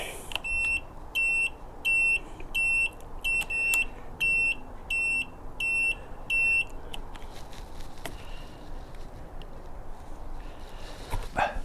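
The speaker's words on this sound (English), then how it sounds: "I fitted my turn signal beeper to help me stop forgetting to turn my signals off" An aftermarket turn signal beeper on a Yamaha XJ900S motorcycle sounds a steady series of sharp, high electronic beeps at a regular rhythm for about seven seconds, then stops, leaving quiet background noise.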